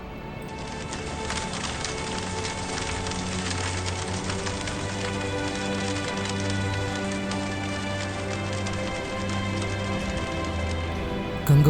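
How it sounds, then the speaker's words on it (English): Hail patters steadily and densely at Gangabal lake in Kashmir, a continuous crackling hiss of many small impacts over an outdoor mountain setting, with a faint low hum beneath. "it's raining hail"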